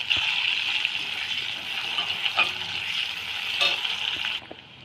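Chopped onions frying in hot oil in a kadai, alongside dry and green chillies, for ghugni: a steady, loud sizzle throughout with a couple of soft stirring knocks, ending abruptly.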